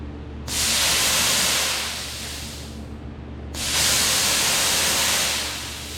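Nitrous oxide purge vents in two loud, forceful hissing blasts, each lasting a couple of seconds with a short gap between them, close and alone.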